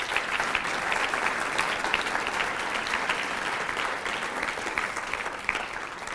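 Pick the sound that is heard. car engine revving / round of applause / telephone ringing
round of applause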